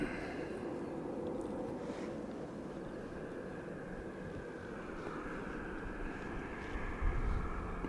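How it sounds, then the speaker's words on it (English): A Ryanair airliner passes at Dublin Airport with a low, distant, steady engine rumble and a soft higher whine, fairly faint and even throughout. "there's our Ryanair now coming through, followed by High Sky"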